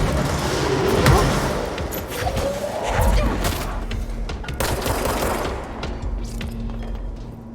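Rapid gunfire bursts rattle through a combat scene in the game Control, loud and dense with sharp cracks, thuds and impacts overlapping almost continuously and tapering off near the end.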